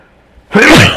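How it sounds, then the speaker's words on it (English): A single loud, close human sneeze bursts out after a quiet moment at an outdoor bowls competition, sharp onset then a breathy tail. "Terribly sorry that I sneezed."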